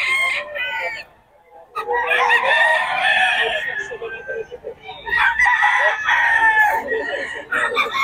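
Roosters at a Bocaue market crow loudly and close by in two long bouts, with a short quiet gap between them.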